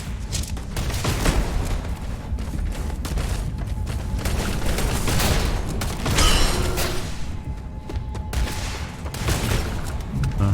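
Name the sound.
mining turret firing in the video game Starfield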